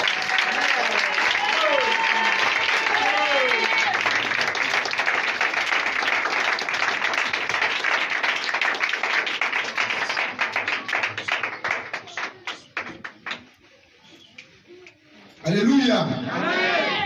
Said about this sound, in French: on acclame l'homme de Dieu, le pasteur Joël, que nous acclamons plus fort